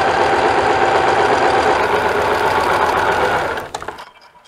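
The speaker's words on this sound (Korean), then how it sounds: "그대로 박아줍니다." A sewing machine stitching a dress sleeve hem with a fast, steady mechanical whir close by, which slows and stops near the end, leaving near quiet with no talking.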